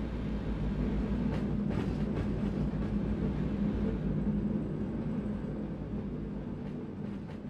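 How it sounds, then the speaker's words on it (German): A tram overtakes a car on a street in Austria, its steady low rumble and rolling rail noise heard from inside the car and slowly fading. "Oh, eine Straßenbahn überholt uns."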